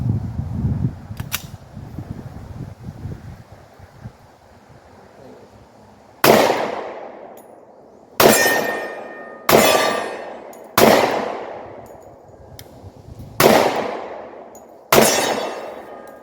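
Six sharp, loud gunshots from a 10mm Glock 20 pistol fitted with a Holosun 509T optic, fired at uneven intervals of one to two seconds, each followed by a short ringing decay, after a few quieter handling sounds.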